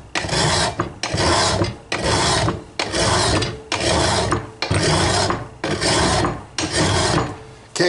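A hand file rasps over a lawn mower blade during spring servicing, eight loud, even back-and-forth strokes with short pauses between them, close to the microphone and with no voices.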